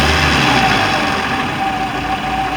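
A Four Winns boat engine runs steadily after being shifted into gear, giving a loud, close, continuous droning rumble with no talk over it.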